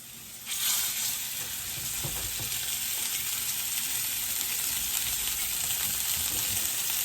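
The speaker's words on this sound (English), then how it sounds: "we're gonna add our steaks and sear for 2 minutes each side" Blackened steaks sear in a hot pan, a steady loud sizzle that jumps up as the meat goes in and then holds a constant crackling hiss throughout, with no talking.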